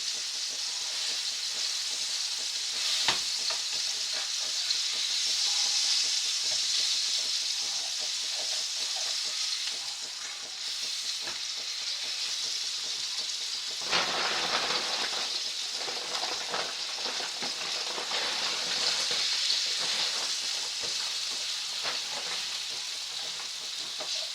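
Beef, two onions and tomato frying together in a greasy pan, a loud continuous crackling sizzle that swells and dips for the whole stretch, with occasional utensil scrapes and no talking.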